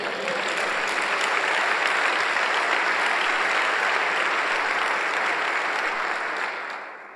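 Steady, dense applause from a church congregation at a pastors' gathering, loud and sustained for several seconds before tapering off at the end.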